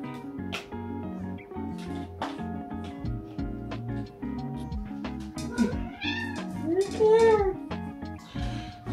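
A cat meows a few times, drawn-out and rising, over steady background music.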